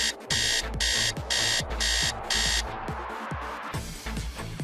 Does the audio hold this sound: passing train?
no